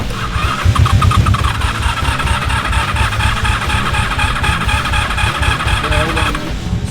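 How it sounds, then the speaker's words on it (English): A backhoe engine running outdoors near a car being worked on, a steady rumbling idle with a regular throbbing pulse that holds constant, then drops away near the end. "Here comes that backhoe. You hear that?"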